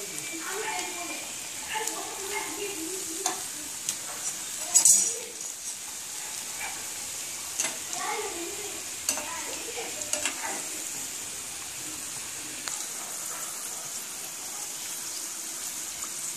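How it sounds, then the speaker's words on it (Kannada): Karkadabu, sweet dumplings of chiroti rava and maida, fry in hot oil with a steady close sizzle, broken by occasional clinks and scrapes as they are pressed down and turned. "ಕರ್ಗಡುಬು ಬೇಯ್ತಾ ಇದೆ, ಈ ಥರ ದಬಾಕ್ತಾನೆ ಇರಬೇಕು"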